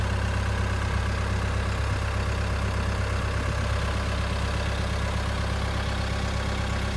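A tractor engine idling while building a stone garden wall, a steady, continuous low rumble close by and unchanging for several seconds, with no talking.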